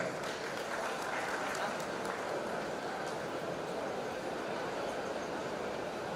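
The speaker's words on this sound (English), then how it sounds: "Let's give a huge round of applause" Applause from an audience at a college annual day celebration, a steady, dense wash of clapping that runs through the whole stretch with faint voices mixed in.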